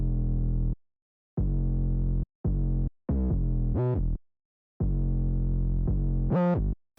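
A drill beat 808 bass line played alone, deep sustained bass notes separated by silent gaps, with a few short notes gliding sharply upward in pitch; heavy, close and distorted.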